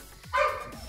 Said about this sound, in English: My dog sounds like he's like being tortured.